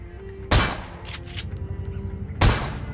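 Shotgun fire in the PUBG video game: two sharp, loud blasts about two seconds apart over a low, rumbling game background.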